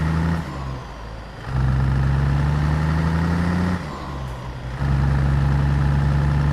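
Cat 3406E engine in a Kenworth W900 truck mod for a driving game, idling with a deep steady rumble heard near the exhaust, dipping twice briefly before returning to a strong low drone.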